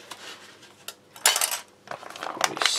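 A metal spoon clinks and scrapes against a dish while being rinsed and handled after tasting a Norwegian arctic field ration, a few scattered close taps and rattles with brief pauses.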